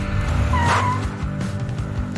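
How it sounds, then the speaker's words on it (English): A car brakes abruptly to a stop, tires squealing in one short shrill burst over a rumbling engine that then settles. "Loveboy abruptly stopped the car"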